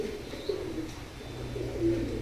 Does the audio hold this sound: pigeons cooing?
yes